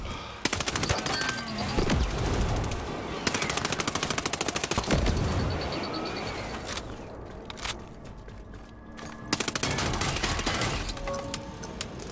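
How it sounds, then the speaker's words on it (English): Rapid automatic gunfire bursts in the video game Ghost Recon Breakpoint, loud and close, with several sustained volleys separated by brief lulls. "Shoot, shoot, why is he shooting?"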